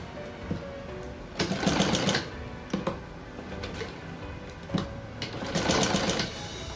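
Sewing machine running in short bursts while stitching gathered fabric pieces of a baby frock, the steady rapid clatter starting and stopping several times with brief pauses between runs.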